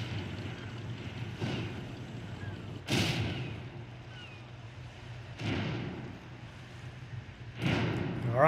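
Airship destruction in Super Mario Bros. Wonder: a steady rumbling game soundtrack punctuated by four heavy booming blasts, evenly spaced, the last one loudest, with brief swooshing effects between them.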